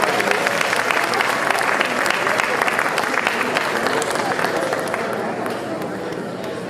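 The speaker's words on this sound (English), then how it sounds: "Let's give another round of applause, please." An audience at an African community celebration applauds an award recipient with steady, dense clapping that fills the room from start to finish, with crowd voices mixed in.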